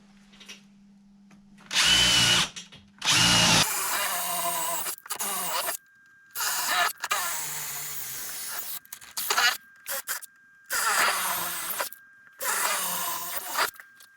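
A power drill whirs in several short bursts, each a few seconds long, with brief quiet gaps between them, loud and close, drilling into wood while repairing a floor joist.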